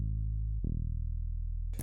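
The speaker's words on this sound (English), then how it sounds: "Get this polymer bass in, which sounds like this." A low, buzzy saw wave synth bass with a low filter cutoff holds one note, then drops to a deeper pulsing note, playing alone and fairly loud before cutting off abruptly.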